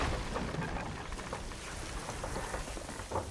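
Storm rain in the video game Sea of Thieves pours steadily and loud aboard a ship at sea, with low rumbles of thunder rolling under the downpour.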